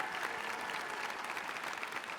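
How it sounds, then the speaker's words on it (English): Audience applause at a school class pinning ceremony, a steady, fairly quiet and distant patter of many hands clapping without a break. "Ms. Samaniego, let's give her a round of applause for her leadership within the IB"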